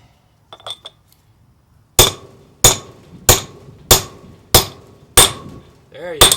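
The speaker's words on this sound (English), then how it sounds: "Now you can hear that tone." Six evenly spaced, sharp metallic hammer strikes ring out as a rear wheel bearing is driven into the hub of a 1974 Honda CB750K, each blow leaving a bright tone. Some faint clinks come before the strikes.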